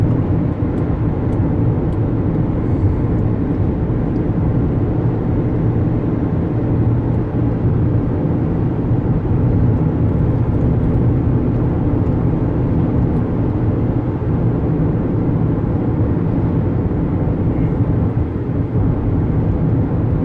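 A 2011 Honda Pilot towing a camper, its engine holding a steady, loud drone at partial throttle, mixed with continuous road and wind rumble from inside the cabin.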